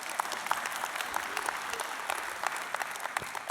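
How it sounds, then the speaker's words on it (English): Church congregation clapping in a steady wash of applause, many hands at moderate distance with scattered sharper claps, no voices standing out. "You can clap for that."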